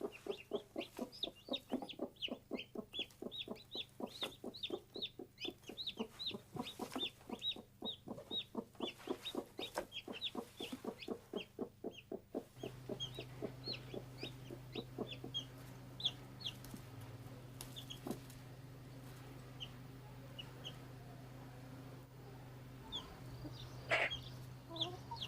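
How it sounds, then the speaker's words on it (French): A hen clucks in quick rhythmic bursts with faint higher peeps from her chicks scattered through, then a quieter stretch of occasional clucks against a low steady hum, in a farmyard. "la poule emmène ses poussins dans la cour de la ferme"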